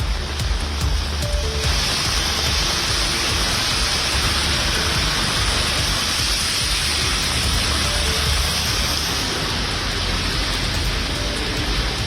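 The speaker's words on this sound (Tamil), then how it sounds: "சென்னையின் பல்வேறு பகுதிகளில் மாலை வேளையில் மிதமான மழை பெய்தது." Moderate evening rain falls across Chennai, a steady, dense hiss of drops on surfaces that holds at an even level throughout, with no voices present.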